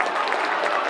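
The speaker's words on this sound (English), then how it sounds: "the crowd roar" A crowd at a Munster club hurling final roars and claps, a dense, steady wash of cheering and applause from a packed stand with no talk over it.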